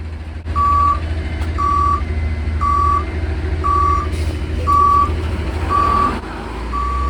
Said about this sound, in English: Yes, beeping sound.